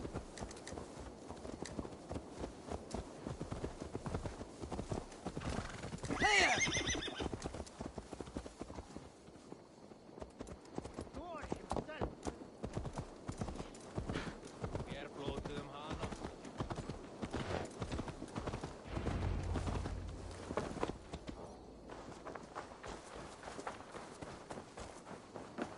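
Horse hooves clip-clop steadily through much of the scene in Assassin's Creed Valhalla, a rhythmic walking-to-trotting gait heard under game sounds, with voices talking over parts of it.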